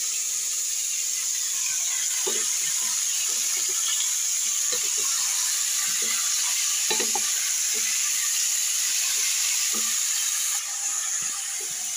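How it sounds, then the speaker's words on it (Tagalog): Onion, ginger and garlic sautéing in a pan with a steady soft sizzle, broken by scattered scrapes and clinks of stirring at close range and no talking. "sinasangkot siya ako muna siya sa sibuyas, luya at bawang"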